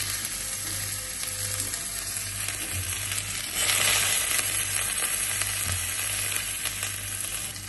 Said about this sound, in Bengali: তারপরে এই রসুনটাকে আমি কড়ার মধ্যে ছেড়ে দেবো।